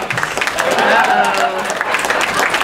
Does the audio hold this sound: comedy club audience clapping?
yes